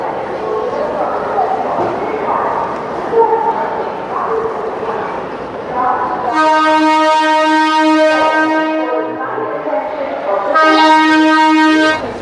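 On a platform at Sealdah South railway station, crowd chatter and general bustle fill the air before a loud, sustained train horn sounds twice, suited to a Namkhana local waiting at the platform.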